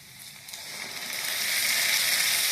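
Onions fry in a pan for a home-style Odia chicken curry, giving a steady hissing sizzle that swells gradually louder over a couple of seconds, with no talking.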